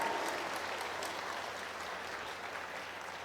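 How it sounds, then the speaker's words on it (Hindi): A church congregation claps loudly in praise, a dense steady wash of many hands sustained throughout, fading slightly toward the end with no voices. "जोर से ताली बजाकर तारीफ करो परमेश्वर की।"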